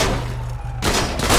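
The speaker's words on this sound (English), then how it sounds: "Oh, he's shooting straight at me. He's shooting." Gunfire from a shooter in GTA 5 comes as a loud burst of shots that cuts in abruptly and continues as sharp, dense reports.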